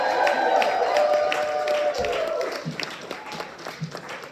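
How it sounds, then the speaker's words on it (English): An audience at a Purim spiel performance claps for a speaker being introduced, a full burst of applause that thins out and fades into scattered claps, with some voice-like tones mixed in early on. "Round of applause for Kia."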